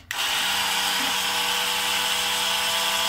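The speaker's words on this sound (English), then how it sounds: "if you have the Black & Decker scrubber, you can save yourself some elbow grease, and it'll work like this" A Black & Decker battery-powered scrubber switches on and runs with a steady, loud, close motor whine and buzz, continuous and alone without talk, in a bathtub setting.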